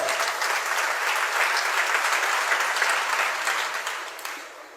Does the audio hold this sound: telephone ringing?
no